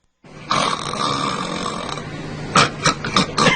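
A person snores loudly and close by: one long, rough, rattling inhaled snore, then a series of four short snorting bursts in a quick rhythm, with no talk.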